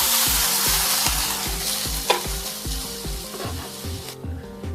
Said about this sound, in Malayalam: ഇനി വറ്റൽമുളകും വേപ്പിലും നമ്മൾ അരച്ചു വെച്ചിരിക്കുന്ന ഈ അരപ്പിലേക്ക് ചേർത്ത് ഇളക്കാം.